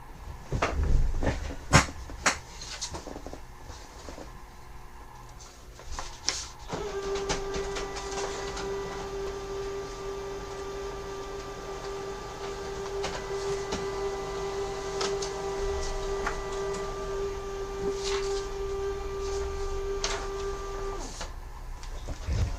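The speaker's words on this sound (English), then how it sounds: "Still waiting, and I've got a pretty fast laser printer" Laser printer whirring with clicks and clunks, then a sustained steady hum as pages feed through, quiet and close.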